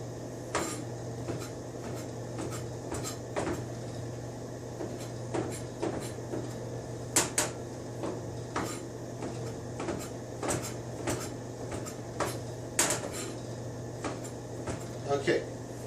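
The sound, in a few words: slicing morel mushrooms with a knife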